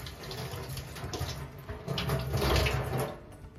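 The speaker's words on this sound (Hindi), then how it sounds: "पानी से खंगाल दो।" Running water splashes over a capsicum as it is rinsed in a kitchen, a close, steady wash of spattering that grows louder and fuller midway.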